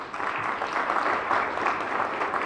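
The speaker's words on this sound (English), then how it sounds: "A round of applause for our team." Applause for Team Botswana, a fairly faint, even spread of many hands clapping in the distance, steady for a couple of seconds with no voices over it.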